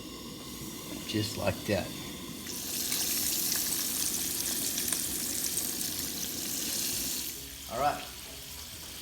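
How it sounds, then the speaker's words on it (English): Pickles frying in a cast iron pan, a bright steady sizzle that swells partway through and holds, with someone talking briefly before and after. "Just walk this on over to our cast iron and fry these up"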